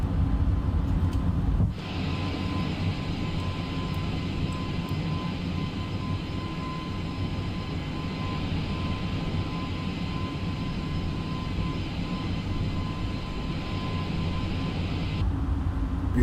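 Airbus A320 jet engines in a flight simulator, a steady loud roar during the climb after takeoff, continuous and close throughout with a brief shift in tone at the start.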